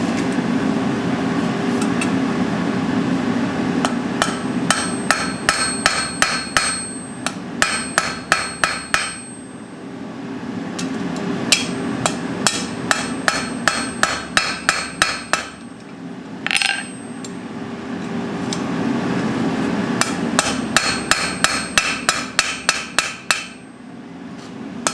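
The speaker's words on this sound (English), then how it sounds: "We're gonna set these rivets and then forge weld it and be done with it." Rivets hammered on an anvil to join pieces of a forge-welded stair spindle, rapid runs of ringing metallic blows in several bursts over a steady workshop hum.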